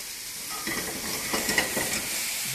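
Sausages and vegetables, onions among them, fry in a pan as a soft, steady sizzle. Faint scraping stirs come and go through the hiss, and no voices are heard.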